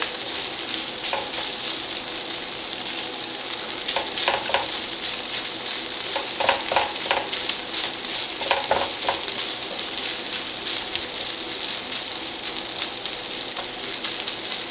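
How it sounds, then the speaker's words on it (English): Sausage fries in a pan over turned-up heat, giving a steady close sizzle with scattered crackles and a few stirring or scraping bursts partway through; no one talks. "Now that we got the sausage and everything starting to heat up, we can kick up the heat just a little bit."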